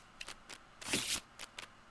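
A deck of cards from a Legends tournament card game is shuffled in short riffling bursts, a few quick crisp flutters and one longer rush, close and fairly quiet with no talk.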